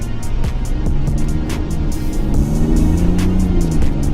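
A Ram RHO pickup truck's engine pulls hard under acceleration, a loud, continuous low roar that climbs steadily in pitch, heard from inside the cab with no talking.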